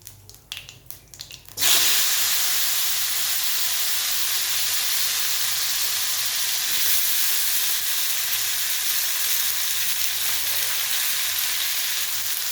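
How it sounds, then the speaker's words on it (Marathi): Cumin, asafoetida and finely chopped eggplant are dropped into a hot pan and burst into a loud, steady sizzle that holds unbroken for over ten seconds after a few quiet clicks. "यातच आपण आता थोडे जिरे टाकणार आहोत हिंग आणि हे जे वांग्याचे मी बारीक काप करून घेतलेले ते आपण यात टाकणार आहोत"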